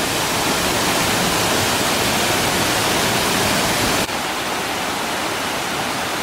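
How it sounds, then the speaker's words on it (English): Sable Falls, a tiered waterfall with a small water slide at its base in Pictured Rocks National Lakeshore, roars as a steady, dense broadband rush, close and loud throughout, dropping slightly in level near the end. "What an absolute beautiful waterfall."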